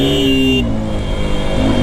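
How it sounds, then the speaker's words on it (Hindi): A KTM RC 200 motorcycle engine accelerates with a loud, steady droning hum, its pitch climbing slightly toward the end of the short burst. "जैसे मैं इसका एक्सेलरेटर दे रहा हूँ,"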